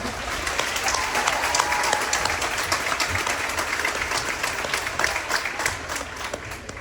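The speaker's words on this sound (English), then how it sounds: "Let's give them a round of applause." Sustained applause from a large crowd at a school fall sports team introduction, dense and even clapping that holds steady throughout before tapering slightly at the end.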